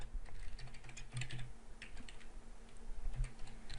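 Fast typing on a computer keyboard during a Django command-line demonstration, a steady patter of soft key clicks heard up close and alone, with a few heavier thumps at the spacebar or enter key.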